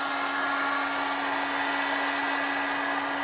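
A heat gun reheats material to shape it into a DIY kayak chest mount for a buoyancy aid, giving a loud, steady, close-up blowing whine with a constant hum, uninterrupted and without speech.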